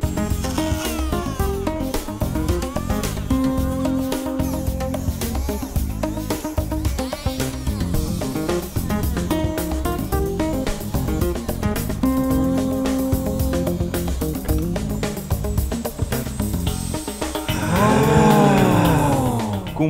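A handheld rotary tool fitted with a paper cutting disc saws through a wooden broom handle, its loud, close, buzzing whine wavering in pitch as it bites, then rising and falling sharply toward the end.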